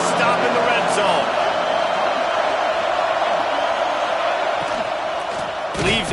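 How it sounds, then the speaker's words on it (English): Football stadium crowd roaring steadily for the defense during a red-zone stand, a dense sustained wash of cheering voices with a brief swell near the end, mixed under talk. "The crowd getting behind this defense as they try to get a stop in the red zone"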